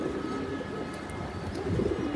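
A Fitki pigeon coos while courting a female, low murmuring coos over constant close background noise.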